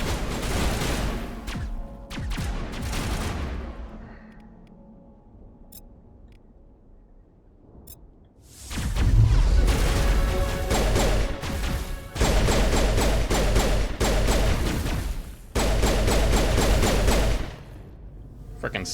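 Loud bursts of sustained automatic gunfire in the video game Mass Effect, rapid rattling volleys filling most of the stretch, with a quieter lull in the middle before heavy firing resumes.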